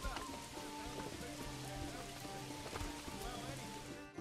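Rain falling steadily in the Manor Lords medieval village game, a soft continuous patter of drops under quiet tonal background music.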